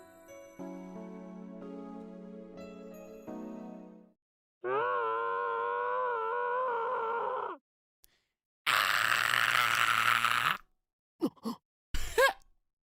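A scream in the Steins;Gate video game: soft music gives way to a drawn-out, strained vocal cry, then a loud, harsh shriek followed by a few short sharp bursts.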